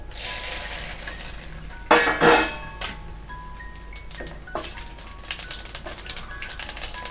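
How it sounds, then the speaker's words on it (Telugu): Whole biryani spices such as cloves, cardamom and mace hit hot oil for Hyderabadi bagara rice, with a sharp burst of sizzle followed by steady close frying and a few light clinks. "ఇప్పుడు ఆయిల్ హీట్ అయింది. బిర్యానీ స్పైసెస్ యాడ్ చేసుకోవాలి."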